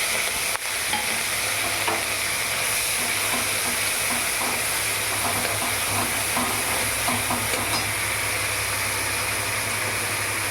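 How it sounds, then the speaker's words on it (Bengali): A large onion fries in a pan for a shilong fish dish, giving a steady, even sizzle with a low hum underneath throughout and no voices. "একটা বড় সাইজের পেঁয়াজ দিয়ে দিলাম"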